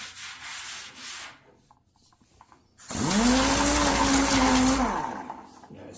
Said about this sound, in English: So this is good just to get the hard part of the sanding done.